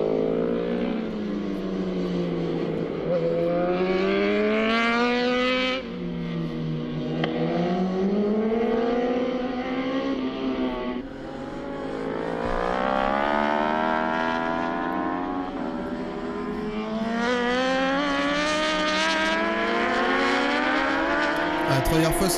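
Superbikes race the final lap of a round of the Australasian Superbike championship at Winton Raceway, their loud engines rising and falling through gear changes continuously, with a commentator talking over the racket.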